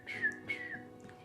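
A single person whistles sharply for a taxi, two quick high bursts with a softer trailing note, close and fairly quiet, with no talk.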